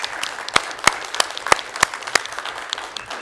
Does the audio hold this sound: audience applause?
yes